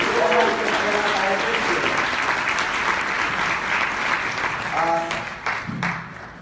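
Audience applause at a conference session on book marketing in Las Vegas: dense, sustained clapping from a large room that thins out toward the end, with faint tonal music underneath.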